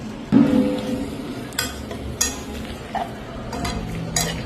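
A spoon stirs white sauce pasta with chilli in a pan, giving soft scraping strokes and a few light metallic clinks against the pan over a quiet low sizzle.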